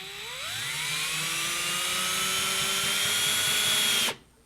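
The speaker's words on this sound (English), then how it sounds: "a very slight pull of the trigger to get it started, to get this fastener to bite" Cordless drill driving a screw into wood, its motor whining up in pitch from a slow start and holding a steady, loud, close whir before stopping suddenly.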